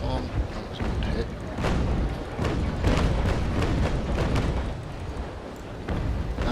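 Ship cannons fire in a naval battle in the Naval Action game, with several sharp booming impacts over a continuous rumble of waves and battle noise, while a voice talks over the action.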